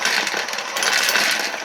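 Bullets drop from a Hornady Lock N Load AP press bullet feeder into the metal bullet tube, making a dense, continuous metallic clatter and jingle close up.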